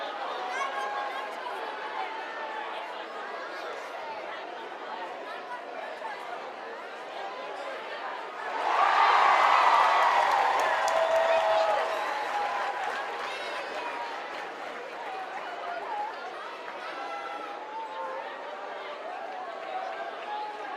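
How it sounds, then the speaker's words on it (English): A crowd cheers and calls out for a teen competitor at an obstacle course world championship, a loud swell of cheering that rises midway through and then settles back under continuous announcer talk and general crowd chatter. "he has a big crowd cheering for him over here"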